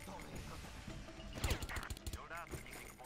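Video game gunfire in Far Cry: a quick volley of sharp, loud shots and bursts rattles through the middle, set against low background game sound and faint effects.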